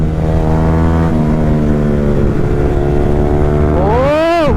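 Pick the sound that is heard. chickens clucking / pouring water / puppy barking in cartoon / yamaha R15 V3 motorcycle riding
yamaha R15 V3 motorcycle riding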